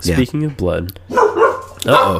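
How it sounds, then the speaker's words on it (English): A dog barks briefly in the background while people talk over it in a casual podcast conversation. "that's a dog."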